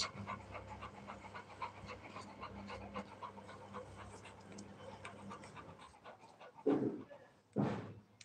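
A dog pants steadily in quick, rhythmic breaths close by, then two louder bumps or thuds break in near the end.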